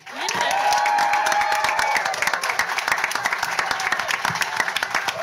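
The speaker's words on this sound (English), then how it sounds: "a big round of applause for the Vice President of Young Labour candidate, Georgina O'Reilly" A crowd applauds and cheers for a Young Labour vice-president candidate at a student event, with an opening burst of shouting and whoops settling into dense, steady clapping, loud and close.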